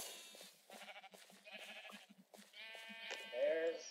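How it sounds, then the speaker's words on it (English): Sheep bleat in a Minecraft Mineplex minigame, several short wavering game-sound bleats in quick succession, fairly faint, with a longer bleat near the end. "Why is everybody going to get our sheeps?"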